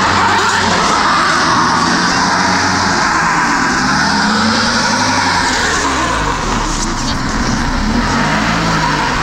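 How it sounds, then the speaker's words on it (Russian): A Lada 4x4 engine revs hard and loud while only one rear wheel spins, the engine note rising and falling continuously up close. "А, крутится только одно заднее колесо."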